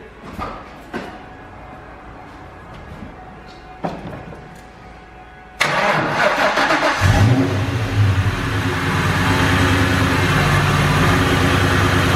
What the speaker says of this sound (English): this will be first start up with the new belt